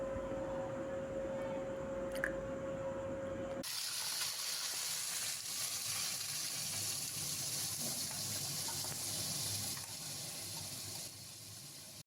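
Coconut paste and cumin seeds hitting hot mustard oil in a wok, for a Bengali shorshe ilish: a sudden loud, steady hiss and crackle that keeps going for several seconds.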